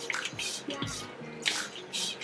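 Tap water running onto curly hair during a wash-day routine, a soft broadband splash and patter rising and falling in bursts, close and moderately quiet, with no talk.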